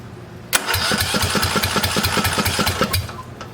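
An old Yazoo riding mower's small engine with an open exhaust cranks briefly, then catches and runs with a rough, rapid chugging, loud and close, with no talking.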